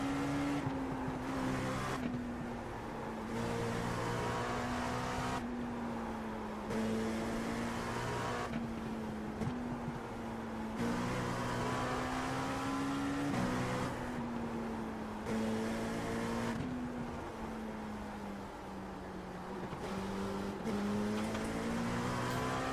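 Race car engine in Le Mans Ultimate with the throttle pumped over and over, a close, loud, buzzing engine note that repeatedly cuts and surges in short bursts, rising and falling in pitch throughout.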